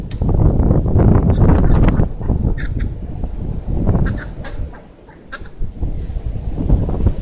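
Chickens eating cracked corn, layer pellets and sunflower seeds outdoors on a windy day, with close bursts of pecking, scratching and fowl calls over heavy wind buffeting.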